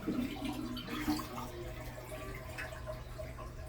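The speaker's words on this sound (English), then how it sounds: "I'm just going to empty the water out" Water gurgles and splashes steadily with small drips as a toilet tank is emptied, a soft continuous draining sound at close range.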